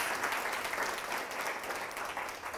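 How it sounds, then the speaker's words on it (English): A room of people clapping together during a workplace dignity-and-respect presentation, a continuous fairly loud patter of hands lasting a few seconds and tapering off slightly at the close. "So let's clap and welcome military and veterans into the workplace."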